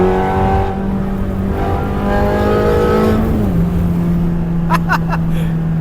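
A Ferrari 360 engine running loud and near, holding a steady droning note that shifts pitch midway as the revs change, with a few sharp clicks near the end.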